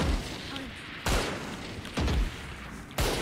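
Gunshots from a first-person shooter game come in three sharp, loud bursts about a second apart, each with a short tail, over steady background game noise.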